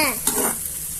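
Continuous loud sizzling of chopped vegetables, including beans and tomatoes, frying in a hot pan for veg Maggi noodles, broken by a couple of quick scraping stirs near the start.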